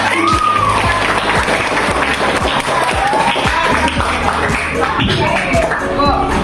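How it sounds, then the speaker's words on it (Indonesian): A class of students applauds together after group presentations in a school lesson, dense continuous clapping from many hands filling the room at steady loudness, with a few voices mixed in. "kita sama-sama beri tepuk tangan untuk kita semua"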